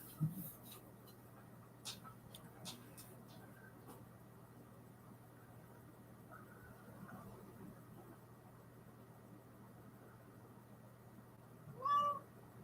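A pet cat meows once near the end, a short, clear cry against a quiet room with a faint steady hum, preceded by a few soft scattered clicks.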